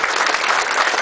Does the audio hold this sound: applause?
yes